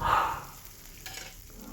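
Greens hit hot oil with onion, dried chilli and cumin and fry with a soft sizzle. A brief stirring scrape comes at the start, then a low, steady hiss, close but faint, with no speech.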